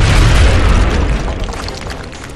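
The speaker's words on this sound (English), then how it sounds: "Grenade out." A grenade explosion in XCOM: Enemy Unknown, a loud, heavy boom with deep rumbling low end that decays slowly over a couple of seconds, standing alone without talk.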